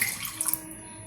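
Milk is poured into a blender jar in a short splashy pour, a brief gurgling stream that fades out within a second.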